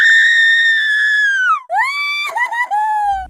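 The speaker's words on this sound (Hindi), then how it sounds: "तभी उसे तेज तेज चिल्लाने की आवाज आती है" A woman's loud, shrill scream rings out in a horror story at night, one long sustained cry that breaks and then continues in shorter wavering wails.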